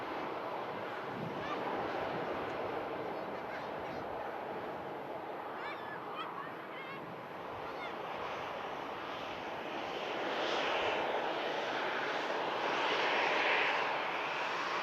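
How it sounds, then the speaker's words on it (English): A Ryanair Boeing 737 with retrofitted split winglets arrives at Manchester Airport, its broad jet roar steady and fairly loud throughout and swelling slightly toward the end. "Ryanair 737. Yeah, sneaking in"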